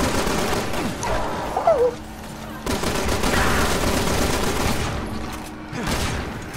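Bursts of gunfire from the Resident Evil 6 video game crackle in clusters amid in-game effects, fairly loud, with abrupt cuts between louder and quieter stretches and voices talking over parts of it.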